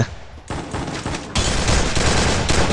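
Free Fire video game gunfire rattles in rapid automatic bursts, dense and loud, building heavier partway through with no speech over it.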